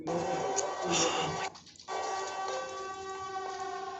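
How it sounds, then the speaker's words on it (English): Siren Head creature calling with a droning, siren-like wail of steady layered tones, briefly broken off and then resuming, heard over a dense rumbling background. "That's the Siren Head sound"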